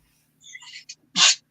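A single sharp sneeze bursts out near the end, preceded by a brief quiet intake and faint sounds; otherwise quiet.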